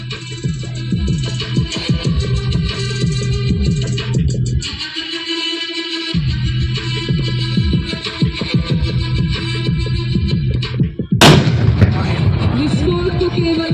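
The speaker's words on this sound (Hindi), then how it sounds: "विस्फोट तो केवल दरवाजा खोलने के लिए नहीं, बल्कि अंदर के आतंकवादियों में विचलित की लहर भेजने के लिए डिजाइन किया गया था" Sharp blasts and gunfire-like bursts from a compact door breaching charge during an army demonstration, a loud explosive crack near the end with a broadband burst, over continuous busy rumbling background.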